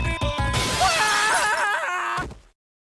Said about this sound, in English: The weaker glass should shatter if I drop fire bars at a high frequency